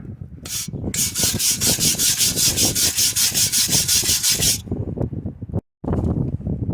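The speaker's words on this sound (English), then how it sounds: "now that I got it cleaned off with a brush" A stiff brush scrubs rapidly over the surface of a holed pivot line on a vehicle, a loud, steady run of rhythmic rubbing strokes that stops abruptly, followed by a brief pause and then a little handling noise.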